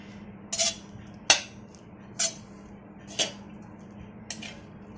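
A spoon clinks sharply against a pan five times, stirring tender jackfruit vegetable with fresh coriander, each scrape a bright metallic tap over a low steady hum.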